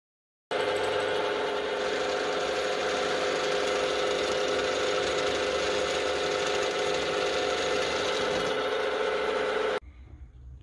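A power drill runs continuously for about nine seconds while cutting out a stuck part, a loud, steady whirring grind that starts abruptly and stops sharply, leaving faint room noise.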